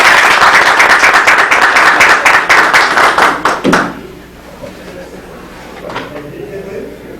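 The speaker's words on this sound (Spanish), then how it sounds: "Aplausos para maestro." An audience at an arbitration book presentation gives a burst of rhythmic applause that thins into scattered claps and stops abruptly after about four seconds, leaving quiet room noise and a faint murmur.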